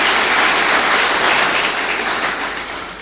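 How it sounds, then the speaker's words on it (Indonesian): Loud, dense applause from a large church congregation during a sermon, steady throughout and tapering slightly at the end. "Tepuk tangan untuk Tuhan Yesus Kristus."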